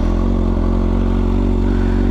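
A 2020 Kawasaki ZX6R fitted with an Arrow full exhaust system and dB killer idles warm and steady, a loud continuous low burbling rumble close by with no talking.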